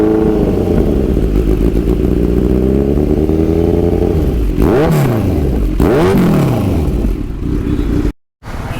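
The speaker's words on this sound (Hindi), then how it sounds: "SC स्मॉल एग्जॉस्ट है। तो अभी आपको इसकी आवाज़ सुनाते हैं।" A Kawasaki Z900 fitted with an SC small exhaust idles with a loud burble, then gets two sharp throttle blips that rise and fall before a brief cutout, all close and loud.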